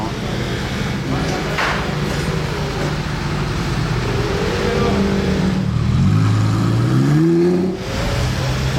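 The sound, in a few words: sports cars arriving in Monaco: Aston Martin DBS, Morgan, Evo Spider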